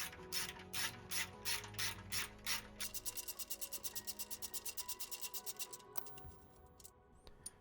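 A hand ratchet turns a 17mm bolt holding the traction arm on a Nissan 350Z rear subframe, giving fast repeated clicking strokes that first come in slower bursts and then a long even run of rapid clicks, close and clear, with no talk.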